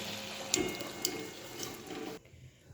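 Water runs from a tap into a cooking pot, a steady broadband wash with a few clinks, stopping abruptly near the end, while making a banana stem dish.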